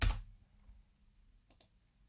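A computer mouse clicks nearby: a muffled thump at the start, then a quiet stretch and a crisp double click near the end.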